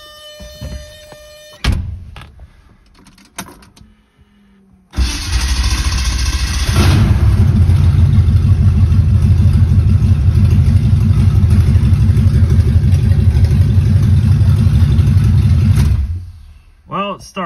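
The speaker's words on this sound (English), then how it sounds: "Well, it starts. The starter doesn't sound super great, the engagement wise, but it does work." A car's starter motor grinds after a six-speed gearbox swap, the engagement sounding rough, then the engine catches and runs loud and steady for about ten seconds before shutting off; some speech occurs before the start.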